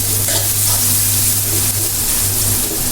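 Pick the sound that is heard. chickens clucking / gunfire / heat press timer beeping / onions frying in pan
onions frying in pan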